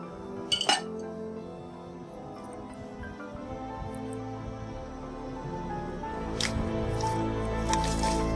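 Creamy fruit chaat being stirred together with batter gives a steady run of soft, wet squishing and dripping with a few light utensil clinks, close up and moderately quiet, with no voices.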